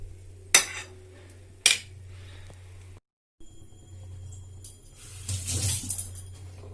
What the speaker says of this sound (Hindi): तेल गरम हे जाय छै। मैं हाथ रे गोटे गोटे करके पकाउछि।